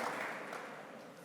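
An audience at a conference panel on Industry 4.0 gives brief, faint applause, a soft wash of clapping that fades over about a second.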